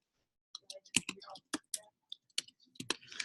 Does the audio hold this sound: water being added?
no